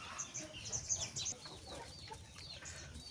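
Hens in a backyard flock cluck and squawk in a few short bursts near the start, fairly close, then fade into quieter rustling after a storm.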